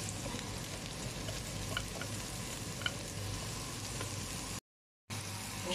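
Meat added to browned chard stems frying in a pan gives a soft, continuous sizzle that drops out completely for a moment before resuming.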